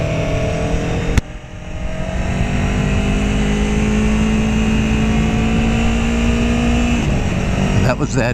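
A 2017 Aprilia Tuono V4 1100 Factory motorcycle accelerates hard, its loud engine droning and climbing in pitch, with a sharp quick-shifter gear change early on and another change near the end.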